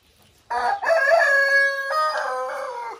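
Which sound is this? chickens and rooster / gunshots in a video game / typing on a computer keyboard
chickens and rooster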